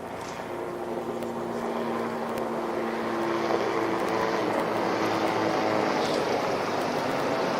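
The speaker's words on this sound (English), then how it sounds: "chopper overhead" A helicopter flies overhead at a high school baseball game, its steady droning engine filling the air with an even, moderately loud hum that holds for several seconds with no talk.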